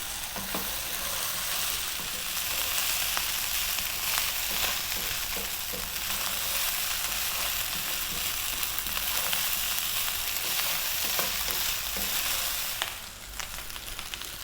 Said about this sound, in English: The crackling and frying of the rice.